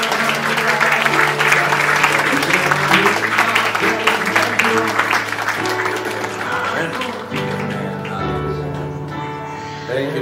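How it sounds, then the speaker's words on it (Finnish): A crowd claps at a Finnish prayer meeting, a loud sustained wash of applause over sung or spoken tones and music underneath, gradually thinning toward the end. "Give God a big hand prayer. Ja nyt aplodit Herralle."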